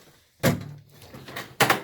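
A metal tool chest drawer holding screwdrivers slides open with a rumbling roll, then a second sharp clunk as it reaches its stop, close by.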